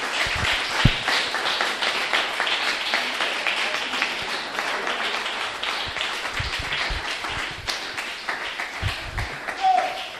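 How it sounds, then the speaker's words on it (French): A church congregation applauding during a Sunday service in Akanda, Gabon, with dense, sustained clapping and a voice speaking over it throughout. "Acclamez pour le Seigneur."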